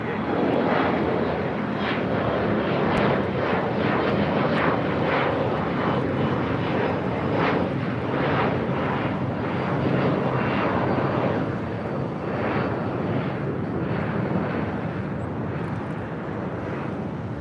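At LAX, a jet airliner takes off from runway 25 right, its engine roar loud and sustained throughout with a pulsing rumble and no pause.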